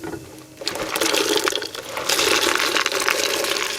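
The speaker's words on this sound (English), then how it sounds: "you're gonna add your hominy" Water splashes and churns steadily as hominy is poured into a pot of lime water, a continuous bright rushing sound that swells after a quiet start.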